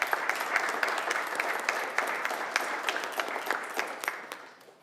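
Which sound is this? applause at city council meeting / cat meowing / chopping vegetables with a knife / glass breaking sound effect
applause at city council meeting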